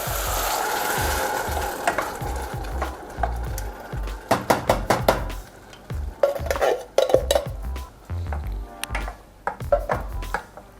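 Tomatoes tip into a hot pan for a Chicago deep dish pizza sauce with garlic, followed by repeated stirring and utensil clatter against the pan over a steady sizzle, close and moderately loud, with no talking.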